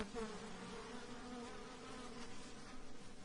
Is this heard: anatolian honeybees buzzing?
yes